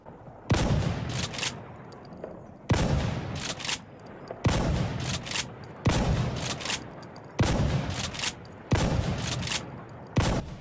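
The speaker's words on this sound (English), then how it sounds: "now let's try to shoot a medium range with the buckshot." Remington M870 pump shotgun firing buckshot in the shooter game Insurgency Sandstorm, five loud sharp blasts at steady intervals, each with a short pump-action clack and a rolling echo tail, no talking.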